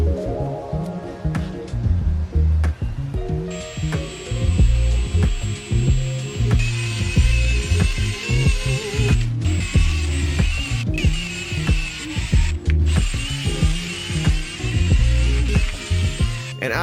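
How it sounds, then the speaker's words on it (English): A handheld drill spins a buffing attachment with polishing compound over a hazy car headlight lens, a steady high whine holding for long stretches amid clicks, knocks and handling noises. "So I'm just using a drill with an attachment, some buffing compound, and we're just gonna get this haze off."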